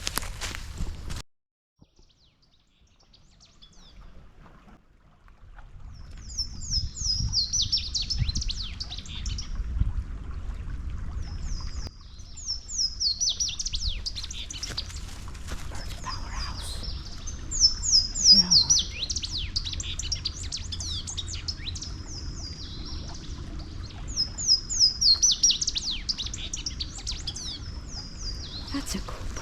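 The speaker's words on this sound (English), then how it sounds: "That's a cool bird call." Bright, repeated bird calls ring out along a wooded hiking trail, coming in several chirping bursts over a quiet background with faint footsteps and some soft talk.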